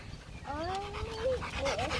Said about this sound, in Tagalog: Pag wala sa galaan, panayang iyak ng aso namin.